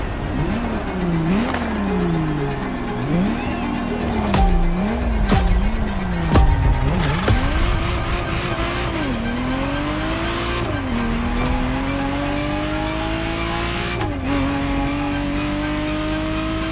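A Ferrari Testarossa races in The Crew Motorfest, its engine revving hard and rising and falling through repeated gear changes, with tire squeals and skids along the way, loud and close with no talking.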